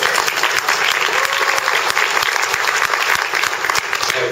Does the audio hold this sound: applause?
yes